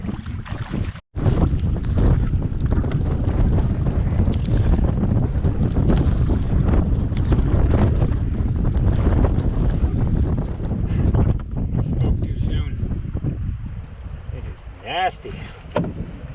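Steady wind roars against the microphone while a canoe or kayak is paddled into a headwind across a lake, a continuous loud broadband rush with occasional gusts and faint water sounds.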